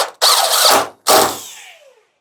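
A power drill drives screws into a BAL Exact Slide mechanism inside an RV: two loud, close whirring bursts, the second trailing off as it winds down.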